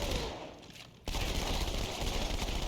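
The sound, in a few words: Halo video game gunfire, dual-wielded guns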